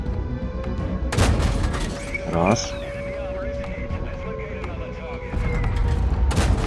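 Heavy booming cannon shots from a Black Prince tank in a game ring out a few times, loud and close, with someone talking over the explosions.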